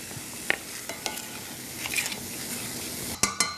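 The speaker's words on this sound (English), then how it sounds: "right into the saute pan along with the garlic and the olive oil. Give that a quick stir." Onion and garlic sautéing in olive oil in a pan: soft sizzling with occasional stirring scrapes and a few sharp clinks of a utensil against metal, close up.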